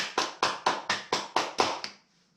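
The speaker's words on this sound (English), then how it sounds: "Everybody clap your hands." Seven sharp, evenly spaced hand claps in a quick rhythm, close and loud, as people clap along to a song, then the clapping stops abruptly into near silence.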